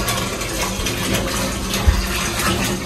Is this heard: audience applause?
no